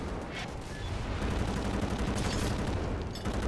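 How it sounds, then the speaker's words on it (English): Continuous gunfire in the shooter game Wolfenstein: The New Order, from the player's first weapon: dense, steady bursts of shots lasting several seconds with a few sharper cracks on top, loud and close, with no talk. "Got our first gun and we can finally shoot some shit."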